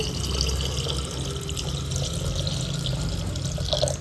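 Water pours steadily into a jar while homemade pineapple wine is being prepared, a continuous splashing stream heard up close with no talk.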